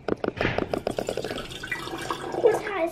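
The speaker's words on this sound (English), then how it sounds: "So Ivy's going to pour the water in the jar." Warm water is poured into a jar for dissolving yeast in a kitchen, giving a quick run of splashy pulses that settles into a softer trickle at moderate volume.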